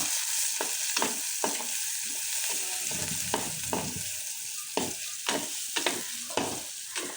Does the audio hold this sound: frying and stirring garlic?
yes